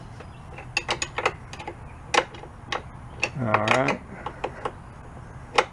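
A wrench ratchets and clicks in short irregular bursts on the rear shock of a 1980 Honda CR125 Elsinore motocross bike, close and fairly crisp, with someone speaking briefly over it.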